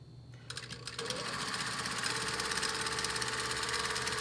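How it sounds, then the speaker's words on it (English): An industrial sewing machine stitching down a pocket bag seam, starting up after a brief pause and running in a fast, steady mechanical whir close by. "we're going to stitch down. Okay, this seam is about 3/4 to the edge of our pocket bag."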